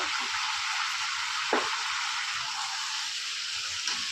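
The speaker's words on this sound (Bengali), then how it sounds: "ভালো করে নেড়ে দেবো।" Fish and cabbage fry in a pan with a loud, steady hiss of oil and a couple of brief clatters as the mixture is stirred.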